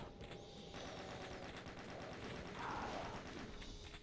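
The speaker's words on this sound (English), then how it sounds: "using the chain guns to finish off any straggling Hell Knights" Chaingun fire in Doom II, a quiet, continuous rapid rattle of shots blending into a dense, muffled barrage with background game noise.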